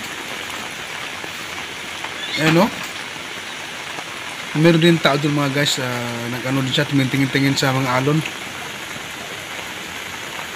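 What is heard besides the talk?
heavy rain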